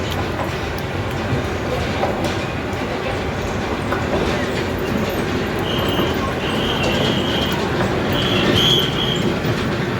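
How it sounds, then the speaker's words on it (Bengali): Toy train ride at Accoland amusement park rolling past with a steady, continuous rumble of wheels on track, a few faint squeals near the end, no voices. "ট্রেন যাচ্ছে, ট্রেন।"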